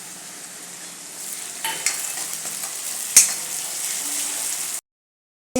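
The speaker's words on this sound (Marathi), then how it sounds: "कांदा भाजत असतानाच त्याच्यामध्ये आता मी इथे 2 हिरव्या मिरच्या अशा मधून चीर करून घेतल्यात, त्या घालायच्या आणि थोडा कढीपत्ता घालायचा" Onion, slit green chillies and curry leaves fry in a pan for dal tadka, giving a steady soft sizzle with a few sharp stirring clatters and a brief spoon clink before the sound cuts off.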